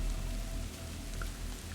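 Rain falls steadily outside an empty hostel at night, a soft, even patter at low level with no voices.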